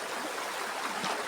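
Flowing stream water rushes steadily and close by, a continuous bright wash with no voices.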